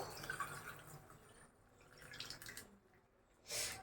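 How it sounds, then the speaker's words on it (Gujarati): Wash water drains off sprouted legumes in a kitchen: a light, uneven trickle and dripping, with a louder splash near the end. "અને બધું પાણી છે આ રીતે આપણે નિતારી લઈશું"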